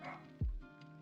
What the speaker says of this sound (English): I don't know if you can hear the dogs in the background